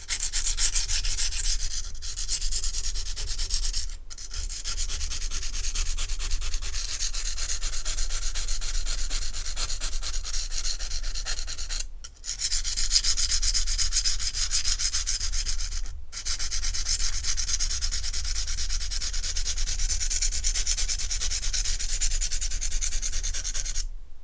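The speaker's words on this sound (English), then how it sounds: "we can start the sharpening process on this knife" Knife with a broken tip being sharpened on a stone: continuous rhythmic scraping strokes, close and steady, with a few brief pauses between passes.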